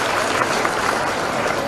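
Applause from a school gathering, a dense wash of clapping from many hands that carries on steadily throughout.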